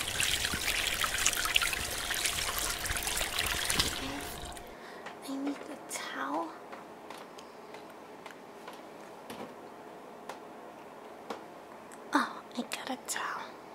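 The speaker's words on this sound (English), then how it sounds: "I'll turn the water on." Water trickles and splashes from a tap at low level, with occasional clinks and soft movement; a loud broadband rush in the first few seconds cuts off abruptly.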